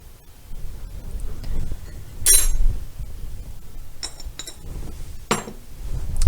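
A small teaspoon clinks against a kitchen container while sugar is added to warm water and yeast for bread dough, making a few sharp, light metallic taps spaced irregularly over quiet background.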